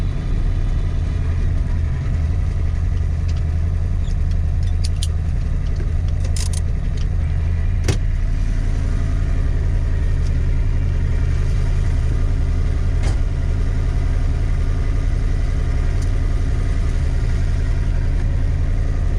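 A 1966 Mustang with a Blueprint 347 stroker engine idles steadily nearby, a constant low rumble carrying a faint whine, with a few brief clicks over it.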